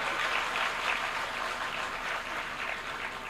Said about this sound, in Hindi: ताली बजाना है तो बजा लो आप